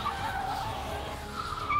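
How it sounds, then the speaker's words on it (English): Tata Tigor JTP turbocharged car driving hard, a quick burst of tire and engine noise with a whooshing, tonal whine that rises and falls, moderately close. "And it makes all the right noises too. The turbo blow-off valve, the exhaust, it's all just so satisfying."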